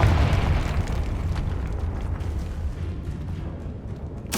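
A Confringo spell goes off in Hogwarts Legacy with a deep, booming explosion that rolls away into a long low rumble, loud and close, followed by a sharp new crack at the end.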